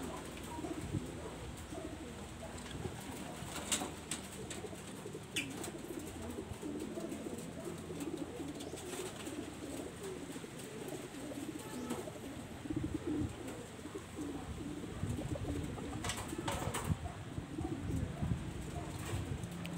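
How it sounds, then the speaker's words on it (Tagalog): Pigeons cooing steadily through the clip as they come down to land, soft repeated coos with occasional wing flaps and light ambient noise, no talking. "Ayan, mga nagbabaan na kalapatids."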